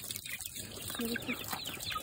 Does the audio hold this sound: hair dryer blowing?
no